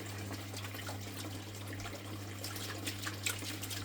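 Water sloshes and trickles steadily as sediment is washed out of gravel in a prospecting pan, a close, continuous wet swirling over a low steady hum.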